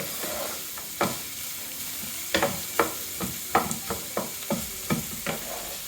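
Onions frying in a pan over a gas flame, with a steady sizzle broken by repeated clattering scrapes as they are stirred and moved around, close and clear with no voices.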